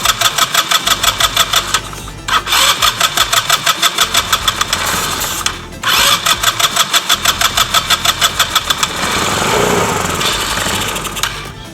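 A 2008 Baja ATV engine, revived from a scrap pile, cranks and starts, then runs with a loud rapid popping rhythm that stumbles and catches a couple of times before settling into a rough idle.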